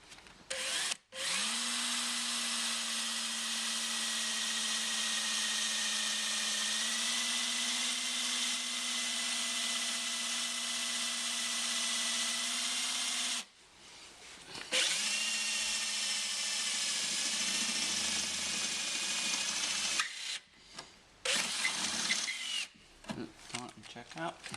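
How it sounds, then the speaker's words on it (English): A small-diameter pilot drill bores holes in the body of a Classic Land Rover Defender TD4 Puma to fit a raised air-intake snorkel. The drill whines steadily, stops briefly, then runs again with short stop-start bursts near the end. "we're going to drill with a small diameter drill to start with"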